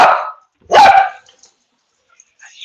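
A dog gives one loud, close bark in a short burst, followed by faint, scattered background sounds and near silence.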